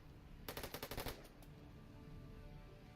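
A short, fast burst of machine gun fire from the Warfare Online strategy game: about seven quick shots in one volley, fairly distant and quiet, followed by low background hum.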